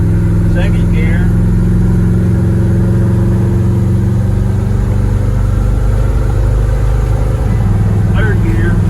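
A Ford F100 custom pickup engine pulls steadily on a four-lane road, its low rumble rising in pitch as it winds up through the gears, loud and constant inside the cab while someone talks over it.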